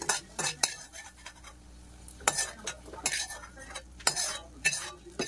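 Popu tempering for a thotakura (amaranth leaf) pachadi stirred in a pan with a spoon, giving a few sharp scraping, clinking strokes against the metal over a faint sizzle, with no talking.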